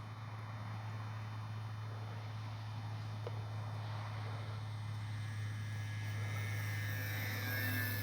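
An E-flite 1100mm P-51 Mustang model warbird drones steadily overhead, its electric motor holding a faint, continuous buzz at a distance, with a slight rise in pitch toward the end and no talk.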